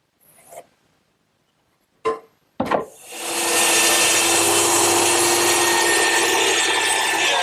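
A power saw cutting a 45-degree angle through a 1x12 wooden board: a few short knocks, then the blade whines into a loud, steady cut that runs to the end.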